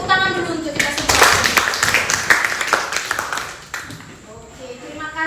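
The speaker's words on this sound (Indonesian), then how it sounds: "Kasih tepuk tangan dulu untuk kita semua." A classroom of children claps together, a loud burst of hand clapping lasting several seconds and then fading, with a teacher and kids speaking around it.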